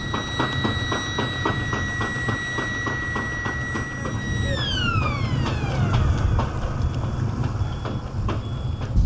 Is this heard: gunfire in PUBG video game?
no